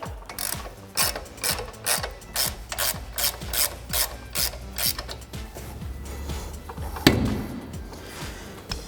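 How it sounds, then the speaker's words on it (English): A 1/2-inch drive ratchet with an 18mm socket backs a bolt out of a Ford F-250's front end, giving a close, steady rhythm of rasping clicks in even strokes, ending with a loud clank as it comes free. "I'm gonna take my 1/2" drive now with my 18mm on it and just ratchet this out the rest of the way."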